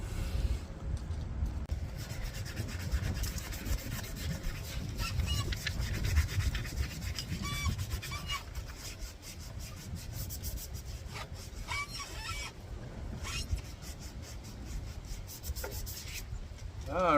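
Hand sanding of a boat's metal propeller shaft at the bare spot where a sacrificial anode was fitted, a steady close rasping rub that runs continuously with little pause.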